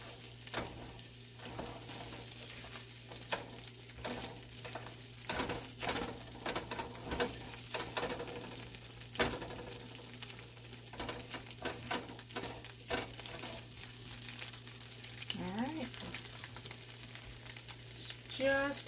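Eggs simmering in salsa in a pan give off a soft, steady sizzle and patter, with scattered faint crackles and a constant low hum from the stove area; the frying stays moderate and even throughout.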